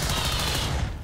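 Rapid automatic gunfire from XCOM 2: War of the Chosen rattles in a dense, loud burst lasting about a second, then cuts off.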